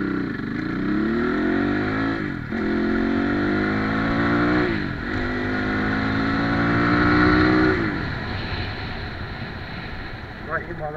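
A Crossfire RM 250 motorcycle engine revs repeatedly up and down, each climb in pitch followed by a drop, loud and close with speech over it.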